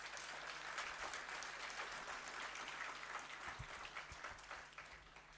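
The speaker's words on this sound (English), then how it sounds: "Please give a round of applause to yourself." Graduates at a Kingston University London graduation ceremony applaud themselves, a dense, distant wash of many hands clapping that holds steady for several seconds, then begins to thin and fade near the end.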